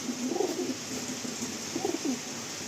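An Andhra pigeon coos softly a few times in short, low, rolling phrases against a steady background hum, with no one talking.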